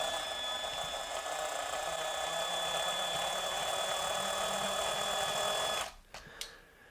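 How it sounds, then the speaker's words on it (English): An electric drill bores into a rusty, crusty car part on an old Ford Pinto, a loud sustained whine that runs several seconds before cutting off abruptly, followed by a couple of faint clicks. "Can't believe this drill is still going."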